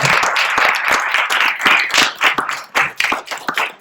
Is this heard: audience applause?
yes